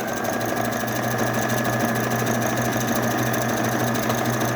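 A sewing machine stitches synthetic umbrella gown fabric in a zigzag pattern, a loud, close, rapid mechanical whir that runs steadily throughout with no talking.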